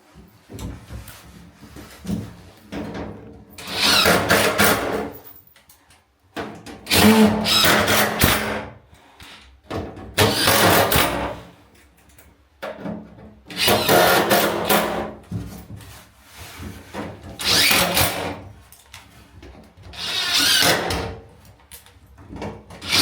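A power drill drives flathead silver screws into the wood of a barrel sauna, in repeated whirring bursts of a few seconds each separated by short pauses, loud and close.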